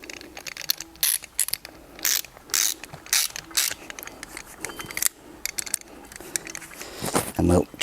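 A ratchet tightens threadlocked wheel hub bolts on an MK Sport-200 front hub assembly, giving repeated fast clicking bursts up close, with pauses between strokes and a clunk at the end.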